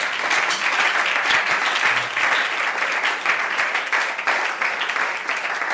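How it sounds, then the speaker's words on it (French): A church congregation applauds during a Sunday service, a steady dense wash of clapping that stays loud and even for several seconds with no talking over it. "Est-ce qu'on peut acclamer cette parole?"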